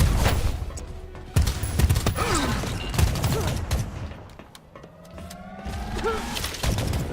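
Rapid video game gunfire crackles in dense bursts, with sharp single shots and whizzing effects layered through a busy, loud firefight.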